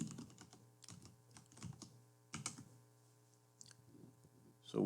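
Computer keyboard keys tapped in short uneven bursts while entering a caption in video editing software, close and fairly soft, with a steady low hum underneath and a louder bump at the end.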